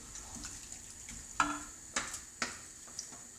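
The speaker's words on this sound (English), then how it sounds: "Got a bit of chili, gonna chuck this in there, give it a stir, bring it to boil." A spoon stirs chili in a pot set to come to the boil, giving a few sharp clinks and scrapes against the pot over a soft, steady sizzle.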